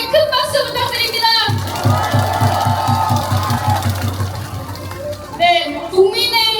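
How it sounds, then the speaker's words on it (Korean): Crowd at an outdoor political rally in Seomyeon, Busan, breaking into applause and cheering with shouting voices, the clapping swelling in the middle and then fading as voices carry on. "용기 있는 발언을 해주신 시민분께 큰 박수 부탁드립니다"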